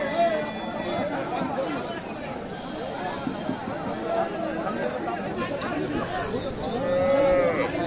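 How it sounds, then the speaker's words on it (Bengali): Bull calves at a busy Bangladeshi cattle market low and moo among the steady hubbub of people talking nearby, the animal calls rising over the crowd noise again and again. "এই পাশে দেখছি আমরা, এগুলো কিন্তু ষাঁড় বাছুর।"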